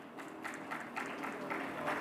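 Audience applause at a panel discussion on circular economy, greeting the introduction of a panel member; steady, moderately distant clapping from a crowd fills the whole stretch at an even level.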